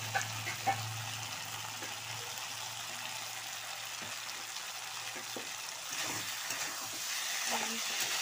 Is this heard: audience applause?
no